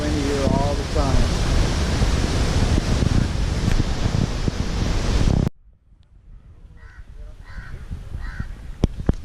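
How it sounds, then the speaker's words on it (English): Roaring wind and spray buffet the microphone at Devi's Fall, loud and continuous for about five seconds before cutting away to a quieter outdoor scene where a crow caws a few times in the distance. "This is Devi's Fall. So this is the air being displaced by the water coming back up."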